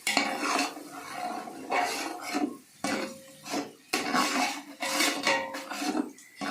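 Coconut paste frying in a pan and being stirred for mutton biryani, with repeated scraping and clinking of a utensil against the pan in uneven bursts, close and moderately loud, with no talking.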